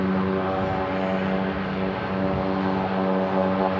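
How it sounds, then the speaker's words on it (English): A Cessna 208 Caravan single-engine turboprop drones loudly and steadily at San Diego International Airport, its propeller hum carrying close and continuous with a distinct tonal buzz. "I can hear a little Cessna 208 Caravan"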